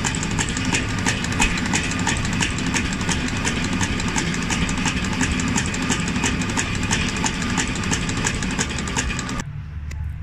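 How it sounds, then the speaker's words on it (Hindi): A China roller-type diesel fuel pump runs on a calibration bench, a loud continuous mechanical drone with rapid rhythmic ticking throughout, cutting off abruptly near the end. "ये चाइना रूलर का पंप है, ठीक है, इसका 500 रुपये फ्यूल चेक करेंगे कितना दे रहा है"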